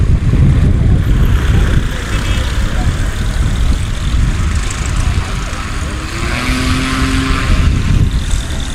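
A Husky STOL airplane takes off during a short-takeoff demonstration at Sun 'n Fun's Paradise City, its propeller engine drone steady and fairly loud throughout, with a brief rising tone near the end.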